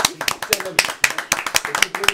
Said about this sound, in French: le nombreux public du studio vous applaudit